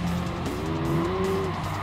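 Race cars, including an MX-5, a BRZ and a GT86, roar along a track in a Gran Turismo Sport Sunday Cup career race. A loud, steady engine drone runs throughout, with a rising, sustained tire squeal in the middle.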